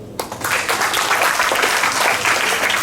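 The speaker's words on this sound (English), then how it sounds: "Let's give her a round of applause, shall we?" Audience at a school declamation competition breaks into applause after a speech, starting abruptly and swelling into a thick, sustained wash of clapping.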